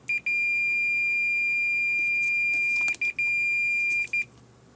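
Sharp, steady multimeter continuity beep, sounded while probing a ClearCom headset microphone, a long tone cut by a few brief gaps as the probes make and break contact, close and clear over quiet hum.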